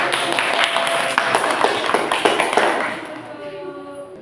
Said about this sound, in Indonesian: Tepuk tangan untuk kelompok lain.